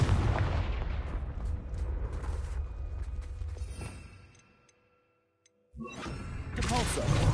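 A Confringo fire spell from Hogwarts Legacy bursts in a loud, sustained roaring blast that fades to silence, then another heavy explosive rumble erupts near the end, with spoken voices around it.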